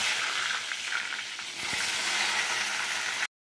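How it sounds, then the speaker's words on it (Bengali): Eggplant fries in hot oil with a dense, loud, continuous sizzle that holds steady for about three seconds before cutting off abruptly, with no talking. "আমি বেগুনটা আগে ভেজে নিচ্ছি।"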